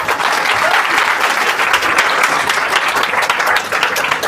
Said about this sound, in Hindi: ताली बजा दीजिए एक बार